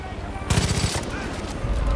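A rapid burst of automatic gunfire from the video game Far Cry 5 erupts and keeps rattling in a dense, continuous stream over a thick background of game noise.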